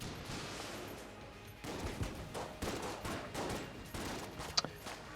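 Rapid gunfire from a weapon in the game Enter the Gungeon crackles in dense, continuous bursts with a brief sharp ping near the end, loud and steady throughout with no speech over it.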